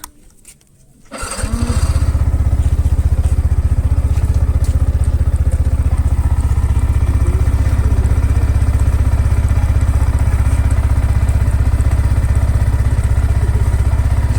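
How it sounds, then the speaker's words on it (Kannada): A motorcycle engine cold-starts after a brief near-silence, then settles into a loud, steady, close idle with an even rhythmic chug that holds for over twelve seconds, with no talk over it. "ಸೊ ಆಗ ನನ್ನ ಬೈಕ್ನ ಕೋಲ್ಡ್ ಸ್ಟಾರ್ಟ್ ಮಾಡೋಣ"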